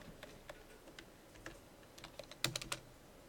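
Computer keyboard being typed on in quick, uneven bursts of clicks, fairly close and quiet, with a louder flurry of keystrokes near the end and no talking.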